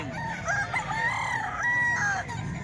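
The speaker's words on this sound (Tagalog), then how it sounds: "Maraming manok dito mga busing" Chickens and roosters at a market cluck and crow repeatedly, fairly close, several birds overlapping against a low murmur of background activity.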